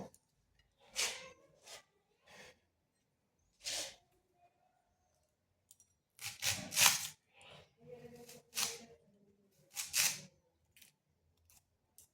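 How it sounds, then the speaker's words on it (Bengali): Onion being cut into large pieces with a knife, several sharp crisp slicing crunches spaced irregularly, close and quiet with silence between strokes and no talking. "পেঁয়াজটা এইভাবে একটু বড় বড়ই কেটে নেব।"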